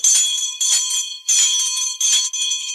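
A school bell rings in several loud bursts separated by short gaps, its bright metallic clang repeating in an uneven on-off rhythm.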